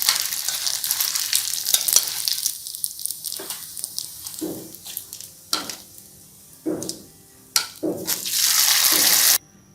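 Rice paper fries in a pan of hot oil with a loud, close crackling sizzle that rises and falls in bursts and swells to a steady hiss at the end.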